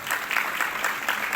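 Brief burst of dense crowd applause at a training program town hall, loud and continuous with pulsing swells for just over a second.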